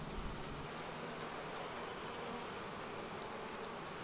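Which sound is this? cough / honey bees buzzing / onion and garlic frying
honey bees buzzing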